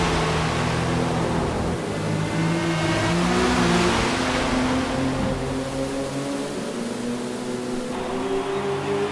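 Acura and Lamborghini race cars rev in a Forza race, engines droning loudly and steadily, pitches rising and falling as they accelerate and shift, with no talk over them.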